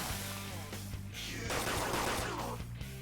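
Gunfire plays in the Persona 5 Royal video game. Loud rapid bursts of automatic shots run over a dense, continuous game soundtrack throughout.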